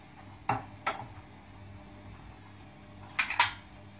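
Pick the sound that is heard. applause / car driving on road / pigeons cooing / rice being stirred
rice being stirred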